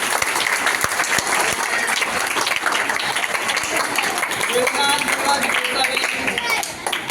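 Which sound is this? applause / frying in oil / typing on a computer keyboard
applause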